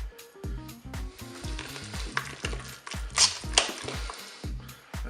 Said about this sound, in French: je vais rajouter donc la cancoyote pour bien mélanger